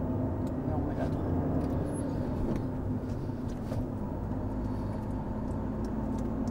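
A Fiat 500's engine hums steadily from inside the car while accelerating and shifting into third gear, its low drone continuous under talk.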